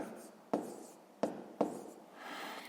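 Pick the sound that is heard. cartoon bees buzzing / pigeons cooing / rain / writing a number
writing a number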